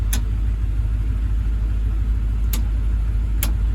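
A truck engine idling near an older vehicle that has sat unused since 2022, a constant loud low rumble with a few sharp clicks cutting through.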